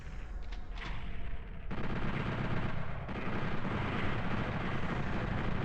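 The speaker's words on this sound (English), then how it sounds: "that's the problem with chain gunners, because they shoot continuously at you" Chaingunner enemy in Final Doom on the original PlayStation firing a continuous stream of rapid shots, a dense, steady barrage of gunfire that holds loud for several seconds with no pauses.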